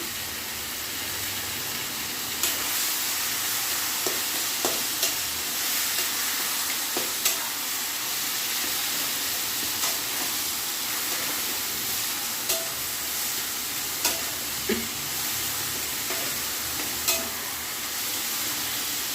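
Taro leaf greens cook in a pan over low gas, giving a steady soft sizzle and hiss. A spatula scrapes and taps at intervals, and no one talks.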